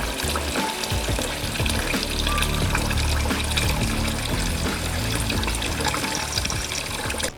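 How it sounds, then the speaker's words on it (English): Cut peppers being rinsed in water to wash out the seeds, a loud continuous splashing and trickling with running tap water throughout, no voices. "So we're going to take them out of there and rinse them, and the seeds will sort of float and go through"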